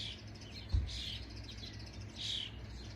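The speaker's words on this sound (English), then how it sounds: "the little birds are getting used to all the bird noises" Faint high chirps from young birds, a few short bursts over a steady low background hum, with one brief thump.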